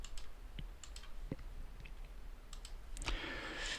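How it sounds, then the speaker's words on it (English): A computer mouse being right- and left-clicked, giving a few sparse, quiet, isolated clicks over low room hiss, followed by a brief louder rustle at the end. "I'm right clicking here, left click, right click doesn't do anything"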